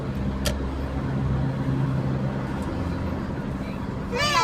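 Steady road traffic with many cars moving along a busy route near Antipolo, Rizal, a continuous low engine rumble and hiss that swells near the end, with people talking nearby.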